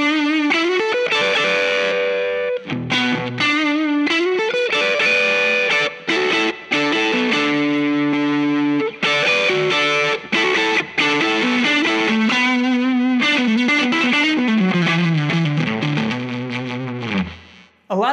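Electric guitar run through a Klon overdrive model on an Axe-Fx III with the gain at minimum, playing a continuous melodic phrase with lightly driven, slightly chorused tone, loud and alone for most of its length before ringing out.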